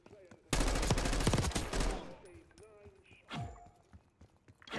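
Gunfire in Black Ops 6 during a hardpoint-style match: a dense burst of rapid automatic shots for about a second and a half, followed by scattered fainter shots and game sounds.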